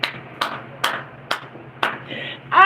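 Five sharp hand claps ring out at a steady, slightly uneven pace, close and crisp over a low background hum, before a brief burst of other noise at the end.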